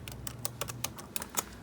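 Someone types on an unfamiliar computer keyboard while setting up a system, a quick, irregular run of close, clear keystrokes heard alone without speech.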